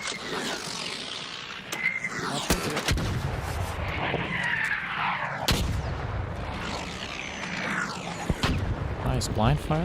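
Gunfire and explosions in the video game Arc Raiders, with repeated sharp shots and booming blasts over a dense, noisy battle background that stays loud throughout.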